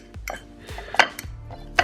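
Avocado is mashed in a bowl, with a fork clinking and scraping against the dish in irregular taps and knocks, several sharper metallic hits standing out, close up and without speech.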